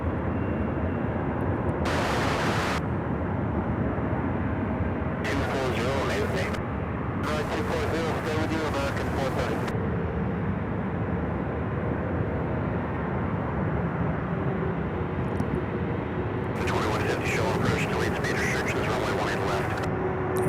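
An Eastern Airlines Airbus A300 airliner at Charlotte Douglas airport, a continuous loud broadband engine roar lasting throughout, heard from a distance with steady rushing noise and occasional hissing bursts.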